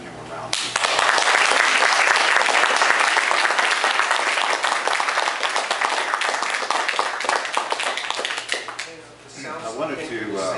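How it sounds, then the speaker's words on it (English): Comic convention panel audience applauding science fiction artist Murphy Anderson, a loud sustained round of clapping that fades near the end as a voice begins speaking. "I hope you join me in giving him a round of applause"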